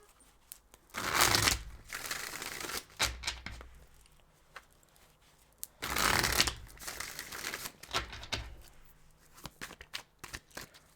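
Tarot cards being shuffled by hand to draw an advice card, with two longer riffling bursts and scattered softer slides and taps between them, close and quiet with no speech.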